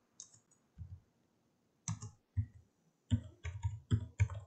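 Typing on a computer keyboard: quiet, close key clicks, a few scattered taps at first, then a quicker cluster of presses toward the end.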